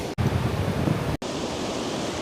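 Ocean surf rolls onto the rocky shore of Matosinhos Beach in Porto, Portugal, a loud, continuous wash of breaking water and wind noise broken by two abrupt momentary cutouts.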